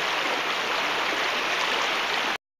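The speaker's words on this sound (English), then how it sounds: "The water's really flowing through here today." Wildcat Creek runs fast past large rocks, giving a steady, close rush of flowing water with no voices, holding constant from start to finish before cutting off abruptly.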